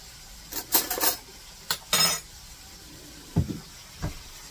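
A small spoon stirring Sloppy Joes in a too-small bowl gives a few short, sharp scrapes and clinks, close and loud, in two quick bursts with brief pauses between them.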